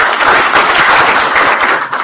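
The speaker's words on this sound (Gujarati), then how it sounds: "સોની માટે એકવાર જરા જોરદાર તાળી વગાડશું બધા" An audience at a farmers' meeting on natural farming breaks into loud, dense applause, many hands clapping together near and steady for the whole stretch.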